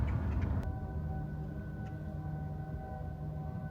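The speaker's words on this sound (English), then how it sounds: "Well, I can hear a train." A train in rural Arizona sounds in the distance, a faint, sustained horn-like tone that hangs over a low rumble after a few brief knocks at the start.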